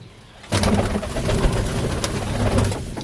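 Pigeons coo in low, throaty, rolling calls that overlap continuously, close by, with a few faint chirps over a steady background.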